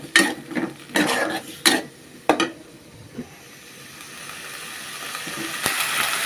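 Chopped tomato and green chili are stirred in a pan with spinach, with several sharp scraping clatters of a utensil against the pan at the start, followed by a soft, rising sizzle of frying.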